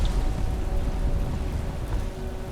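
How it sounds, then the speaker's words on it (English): Heavy rain and strong gusts at sea on a sailboat during a North Atlantic crossing, a dense, steady roar of wind and rain, loud and continuous with no voices. "Heavy gusts and rain told me I was getting close to land."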